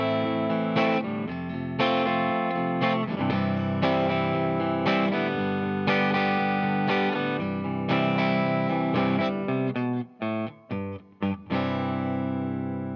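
Guitar plays the intro of a song as steady strummed chords with rhythmic breaks, sustained and fairly loud, with a few short pauses near the end and no talking.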